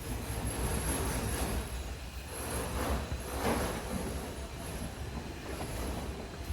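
Train passing close by, heard aboard the Barauni Express near a bridge, a continuous loud rumble of rolling wheels with a high, steady squeal running over it.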